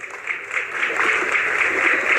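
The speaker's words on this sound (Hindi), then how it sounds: "एक बार जोरदार तालियां बजा करके" A crowd claps at a political rally during the Haryana election campaign, a dense and continuous burst of applause lasting a couple of seconds, close and fairly loud.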